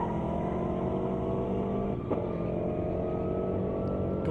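Race cars, a BMW M5 and a Camaro, roaring down an airstrip at a racing event, a steady loud engine drone with a brief dip partway through.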